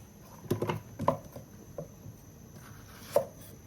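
A kitchen knife cuts the stems off eggplants on a cutting board, giving a few sharp, close chopping taps spaced irregularly in a quiet room.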